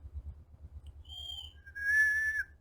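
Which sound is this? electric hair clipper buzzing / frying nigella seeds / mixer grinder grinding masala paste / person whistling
person whistling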